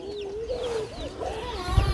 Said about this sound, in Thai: มัน เสียงไก่แล้วเนาะ